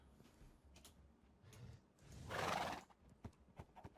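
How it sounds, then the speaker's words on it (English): Horses in Minecraft clop and snort, then one lets out a loud, drawn-out whinny, followed by more scattered hoof taps. "We've got horses."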